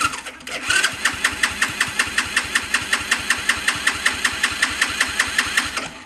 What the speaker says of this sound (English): I'm gonna try and turn it over with the key.